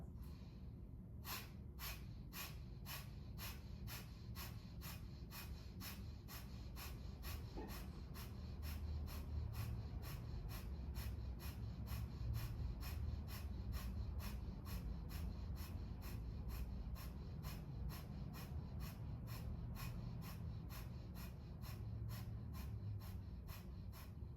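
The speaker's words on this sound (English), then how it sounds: "it's little short bursts at your count. It's little tiny inhales and exhales" Rapid, rhythmic short bursts of breath during a yoga practice, tiny forceful inhales and exhales repeating at a steady pace for about twenty seconds, close and fairly quiet, with no talking.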